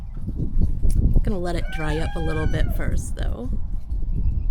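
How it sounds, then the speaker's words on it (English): A backyard rooster crows in the background, a few loud, drawn-out calls rising over steady talking close to the mic during a spring storm. "You might hear my rooster in the background of this video."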